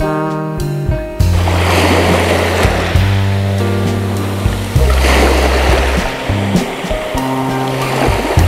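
Sea waves wash steadily onto the beach at Hurma Cove in Mazıköy, Bodrum, a loud, continuous surge of surf and rushing water. A few low, tonal hums run underneath.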